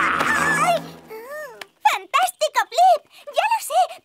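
A cartoon character voices an imitation of a tiger's roar in a series of short, rising-and-falling vocal bursts, following a brief stretch of speech.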